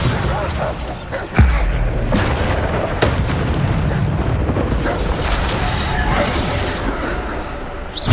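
Heavy blast from the Bombarda explosion spell in the Hogwarts Legacy video game, a loud deep boom followed by a sustained roaring rumble and scattered impacts in a busy fight.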